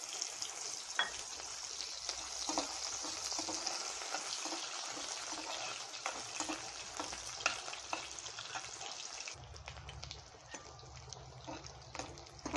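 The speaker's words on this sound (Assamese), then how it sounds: "প্ৰথমতে আমি তেলখিনিত মাছখিনি ভাজি ল'ম।" Dried fish frying in oil in a pan sizzles with a dense, continuous hiss and crackle, with occasional stirring clicks. It stays fairly close and even, then drops lower near the end.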